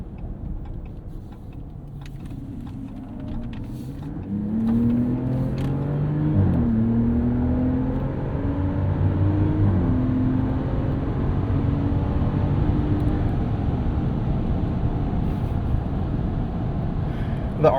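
A 2025 Ram 1500 RHO pickup with a 540 hp twin-turbo inline-6 accelerates up an entrance ramp, its engine note climbing in a steady, building drone heard from inside the cab.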